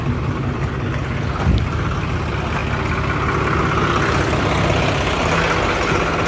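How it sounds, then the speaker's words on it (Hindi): A tractor engine runs loud and close as it pulls an overloaded trolley stuck in mud, a continuous heavy diesel drone with a brief surge partway through. "इसलिए ये ट्रैक्टर आया इसको निकालने के लिए।"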